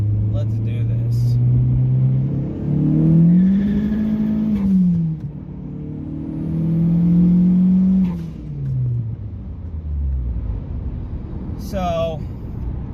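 A car engine revs hard with rising and falling pitch as Toyo Proxes R888R tires spin and whine, loud and close, with roaring surges across the clip.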